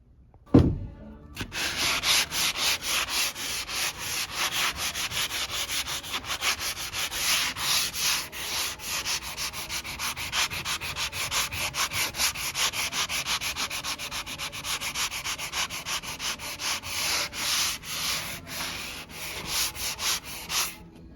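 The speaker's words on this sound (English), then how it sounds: "So I'm just gonna sand it and give it a second coat, make it really smooth and nice." Sandpaper rubbing over a painted wood surface between coats, a close, continuous rhythmic scratching of quick back-and-forth strokes that lasts nearly the whole stretch after a single knock at the start.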